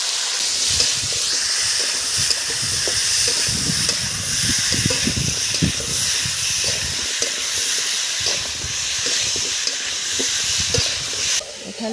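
Potatoes fry in oil in a pan, giving a loud, continuous hiss and sizzle with spitting crackles, close up, with no talk over it.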